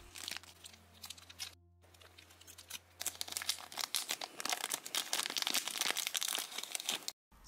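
Crinkly plastic rustling and crunching, close and fairly loud, in irregular bursts after a quieter handling start, with no talking.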